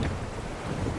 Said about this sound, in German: Es wird anstrengend durch den vielen Wind.